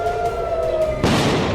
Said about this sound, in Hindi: तेल अवीव में गूंजे सायरन